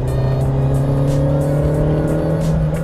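A Citroën AX Sport engine from the 1987–1991 era drones steadily while the car drives, a loud, even interior hum with no talking.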